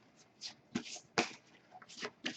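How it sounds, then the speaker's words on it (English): Game cards being shuffled in by hand during a board game setup, a quiet close series of soft irregular riffles and slaps with brief pauses between bursts. "And I will just shuffle those in."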